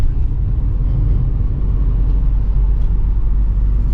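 A Tata Nexon drives along with a steady low rumble of engine and road noise filling the cabin, constant and close.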